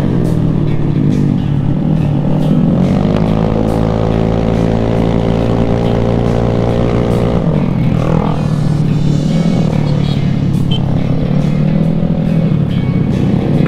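A loud, continuous rumble of many motorcycle engines droning together on a crowded road, pitch shifting as bikes pass close by, with no speech.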